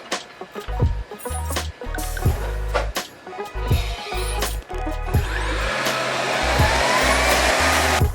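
An LG CordZero R9 robot vacuum cleaner working in a kitchen whirs steadily, its motor hum broken by repeated thumps and clatter as it moves and bumps, rising to a continuous airy roar toward the end.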